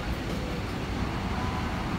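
A Handoyo bus pulling in at a busy Indonesian bus terminal, heard as a steady low engine rumble and traffic wash, fairly loud and continuous with no talk.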